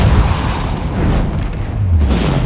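A Confringo blasting curse from Hogwarts Legacy erupts as a loud, sustained explosive boom with heavy low rumble that fills the whole moment, rolling on without a break.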